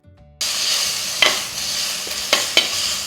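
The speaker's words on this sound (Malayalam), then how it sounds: "ജസ്റ്റ് ഒന്ന് ഇതും ഒന്ന് വഴറ്റിയെടുത്താൽ മതി." Mango egg curry sautéing in a pan: a steady sizzle kicks in after a brief quiet start, broken by a few sharp scrapes of a spoon stirring against the pan, close and fairly loud.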